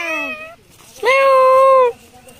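A talking parrot imitates a cat's meow, two clear, drawn-out meow-like calls close to the microphone with a short gap between them, loud against a quiet background.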